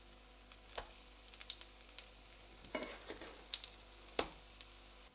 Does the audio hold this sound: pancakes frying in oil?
yes